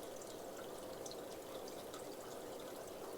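A weak stream of water pours from a pipe into a fish tank, a faint, steady trickle and splash with no talking.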